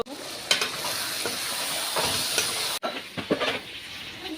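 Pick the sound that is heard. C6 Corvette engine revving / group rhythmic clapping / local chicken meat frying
local chicken meat frying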